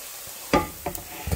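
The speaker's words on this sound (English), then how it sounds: "throwing some sauce over those meatballs" Meatballs in a pan crackle and sizzle as sauce is poured over them, with a few sharp bursts of spitting and stirring noise against a low background hiss, no voices.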